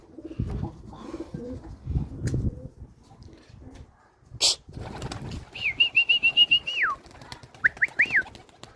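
Homing pigeons flap their wings in a burst of rapid beats amid low rustling, followed by a thin whistling sound and a few soft coos.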